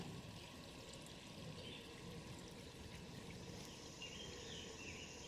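A small stream at the headwaters of Sawmill Run in Shenandoah National Park trickles steadily, a faint continuous wash of water with no voices.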